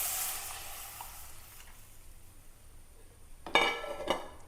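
Second coconut milk poured into a pan of frying chili for a fish curry: a steady sizzle eases off, then a louder splashing hiss near the end as the liquid hits the hot pan, close by with no talking.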